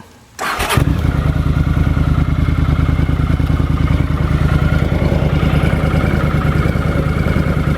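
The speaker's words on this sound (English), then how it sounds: "So I'm going to do a startup now" A 1982 Honda CX 500 Turbo motorcycle cranks and fires up, then settles into a loud, steady, close idle with a fast rhythmic engine pulse and a light mechanical clatter.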